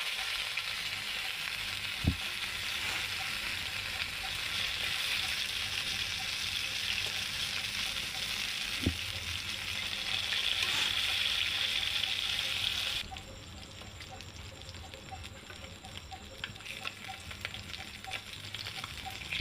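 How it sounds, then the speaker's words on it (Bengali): Pieces of katla fish fry in hot oil in a home kitchen with a steady, close sizzle and a couple of light knocks. The sizzle drops to a quieter crackle for the last few seconds. "মাছ দুটোকে সুন্দর করে ভেজে নেব।"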